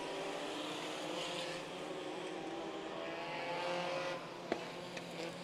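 Race cars accelerate together on the green flag restart of a heat race at Santa Maria, a faint, distant, even roar of engines with a sharp click near the end.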